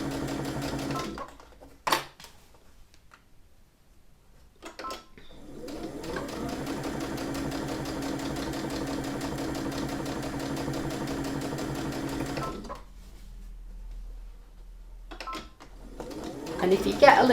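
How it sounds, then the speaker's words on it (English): A sewing machine stitches around a lined drawstring bag in long steady runs of rapid mechanical whirring, broken by short pauses and a few sharp clicks, with no talking. "just keep sewing all the way around until you get back to the other side"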